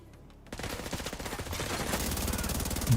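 Turret machine gun in a video game mission rattling off a sustained, rapid burst of loud close gunfire after a brief quiet start, with no pause in the firing.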